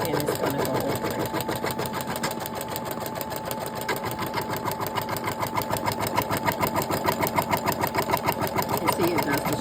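Sewing machine running a placement stitch on fabric scraps for chapstick holders, heard as a close, fast, steady mechanical chatter of needle strokes that speeds up slightly and holds an even rhythm throughout.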